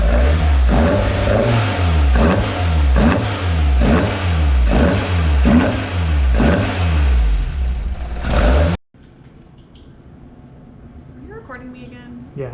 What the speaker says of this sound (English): Plus, it's still pretty cold, so give it a little rev.